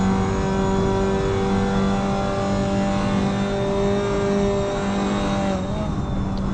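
Steady, loud engine drone from inside a Mazda MX-5 race car on an on-board lap at the Bilster Berg circuit, a sustained high-revving tone holding near constant pitch and shifting slightly near the end, with no talking.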